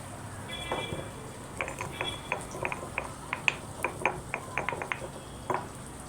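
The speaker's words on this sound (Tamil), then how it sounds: "கொஞ்சம் மிளகு ஜீரகத்தை நல்லா நுணுக்கிடலாம்." Black pepper and cumin are crushed by hand, giving a run of sharp, rhythmic knocks and grinding clicks, irregularly spaced and moderately quiet over faint background noise.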